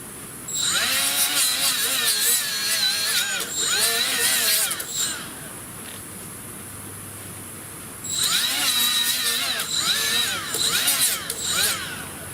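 Pads on a torque converter from a 2010 Dodge Grand Caravan are scuffed with a Scotch-Brite pad driven by a power tool. The tool whirs in two loud bursts, with a short quiet gap between them.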